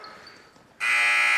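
Halftime buzzer in a gymnasium at a varsity girls' basketball game, a single loud, harsh electronic tone that cuts in suddenly after quiet crowd noise and holds steadily to the end.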